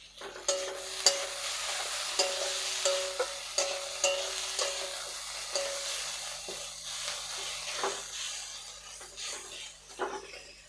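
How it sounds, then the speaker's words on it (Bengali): Chopped chicken frying in a pan for Bengali fried rice, with steady sizzling under repeated spatula scrapes and stirring knocks against the pan, close and fairly loud, no talking. "সেই চিকেনগুলো আমি দিয়ে দেব। এগুলো একটু ভালো করে এর সঙ্গে ফ্রাই করে নেব।"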